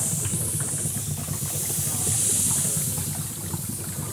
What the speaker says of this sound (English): Here's the torch. You can hear it running.